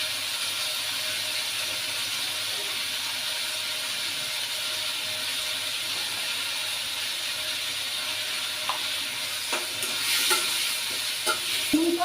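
Potatoes frying with turmeric, chili and salt give a steady, close sizzling hiss throughout, joined near the end by a few light clicks and scrapes of a utensil against the pan.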